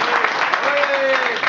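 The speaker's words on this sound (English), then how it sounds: "Ladies and gentlemen, please a warm round of applause for Master Chan." A short burst of audience clapping at a Muay Thai press conference, with a voice running over it and a sustained tone cutting through partway.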